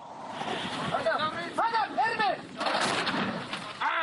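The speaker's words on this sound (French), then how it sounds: "L'artillerie ouvre le feu." Artillery guns open fire during a military engagement, with heavy booming blasts and sharp reports rolling over a noisy field scene, tonal whines and background voices mixed through the fire.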